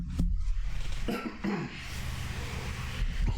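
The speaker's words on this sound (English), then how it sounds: "I clear my throat" Someone clears their throat a few times close up, short rough rasps separated by quiet pauses.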